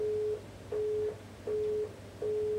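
Phone emitting a repeating electronic beep, four even tones in a steady on-off rhythm with short gaps between, clear and fairly loud in a quiet room.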